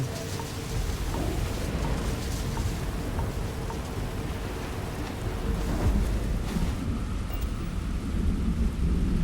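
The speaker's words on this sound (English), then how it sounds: "You would think with the palm trees, we wouldn't be dealing with freezing rain." Heavy freezing rain pours steadily in a place with palm trees, with rolling thunder rumbling through the constant hiss of rain that stays loud the whole time.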